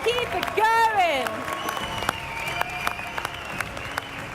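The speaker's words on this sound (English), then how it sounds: "People, please, another round of applause for him." Crowd applause at an ESL R1 Spring Season Major esports event as the champion walks to the stage to collect the trophy, sustained clapping and cheering running steadily beneath an announcer's loud voice.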